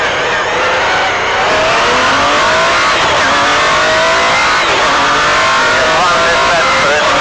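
An MG Metro 6R4 rally car accelerating hard, its engine roaring loud and close with rising and shifting revs held continuously, a driving voice faintly mixed under the noise.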